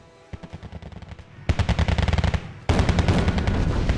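Machine gun fire from the video game Wargame: Red Dragon, rapid bursts rising in loudness, with a sustained dense stretch of overlapping fire at the end and no talk.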